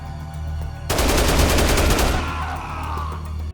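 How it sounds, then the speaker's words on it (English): A heavy machine gun fires in the video game Dead Rising, heard as a loud burst of rapid, evenly spaced shots lasting about a second over a steady low hum, then trailing into a ringing decay. "thanks to the heavy machine gun we got from the prisoners, Carlito is dispatched rapidly"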